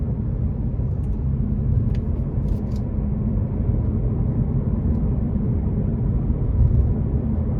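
A 2023 Ford Mustang Mach 1 V8 produces a steady low engine rumble while driving around town, heard close and continuous from inside the cabin, with no talking.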